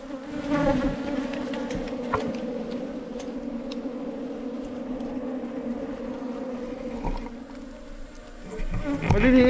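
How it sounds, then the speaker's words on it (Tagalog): Swarm of small bees pouring out of a hive after being smoked, a dense continuous buzzing drone that stays steady and close throughout, swelling slightly at the start and end. "Maliliit yung mga bubuyog ano."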